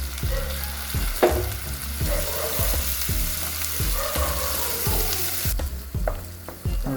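Onion and tomato fry together in a pan for egg keema masala. They give a constant sizzle, and a utensil stirs them in repeated scraping strokes. No one talks.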